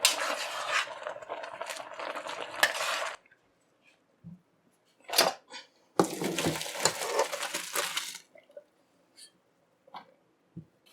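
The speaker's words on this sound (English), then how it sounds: "Our chow mein is done. Time to strain now." Cooked chow mein noodles strained in a kitchen, a wet rushing pour of water and noodles in two bursts separated by quiet, with a few clinks and drips in between, close and fairly soft.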